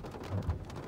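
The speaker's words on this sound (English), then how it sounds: "it's still a total amazing amount of water coming out" Heavy rain and water pouring down a street make a soft, continuous wash with faint low rumbles, distant and quiet.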